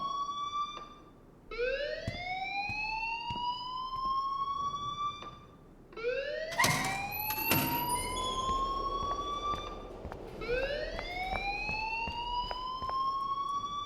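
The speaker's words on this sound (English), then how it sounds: "please turn off that alarm since that's your job" A loud electronic fire alarm wails in the video game Life is Strange, rising sweeps repeating in three long cycles with a brief gap between them, and a few clicks and knocks come through behind it.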